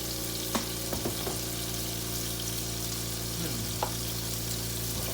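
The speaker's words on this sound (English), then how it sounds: "I'm going to go in with 2 tablespoons of butter, okay? 2 large tablespoons of butter." Two large tablespoons of butter melting in a hot pot, a steady broad sizzle throughout with a few faint clicks and taps, close and even, no talking.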